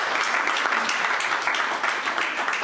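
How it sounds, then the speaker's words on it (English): Dense, steady audience applause at a large diaspora convention hall, loud and continuous with no pauses. "could we have a round of applause for him as well?"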